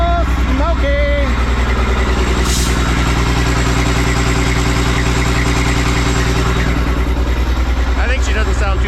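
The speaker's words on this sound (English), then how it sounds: "We'll get some heat in the engine." A Kenworth cabover truck engine idles steadily with a deep, continuous low throb, close and loud throughout, while someone talks briefly over it.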